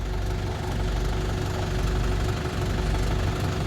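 A sewer line work machine's engine runs steadily with a loud, rumbling drone and a faint knocking pulse, no voices.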